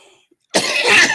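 A man coughs hard, close and loud, in a dense burst that starts after a short quiet pause and carries on to the end.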